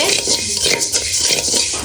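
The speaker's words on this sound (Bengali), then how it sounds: "চাল ভাজা হচ্ছে" Rice toasts dry in a pan alongside coriander, heard as rhythmic, close scraping and rattling of a spoon stirring grains against the pan, with a light sizzle beneath.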